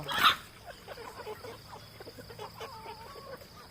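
Chickens cluck and murmur nearby in the rain, with one sharp squawk at the start followed by softer, irregular clucks and a faint background hum.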